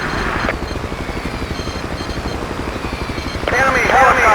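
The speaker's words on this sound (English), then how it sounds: "Enemy helicopter spotted." An enemy helicopter in the video game Battlefield 2 throbs with a steady, rapid rotor chop in the low end, and a radio-style voice call cuts in over the beating blades near the end.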